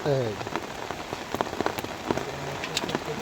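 Heavy rain pours down steadily during a fishing outing, a dense close hiss of drops striking surfaces with scattered sharper patters, and brief voice fragments underneath.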